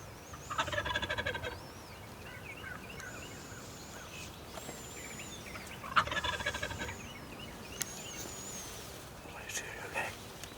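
Wild turkey gobbling in the field near a decoy during a hunt, several loud rattling gobble bursts at intervals, with hushed whispering voices between them.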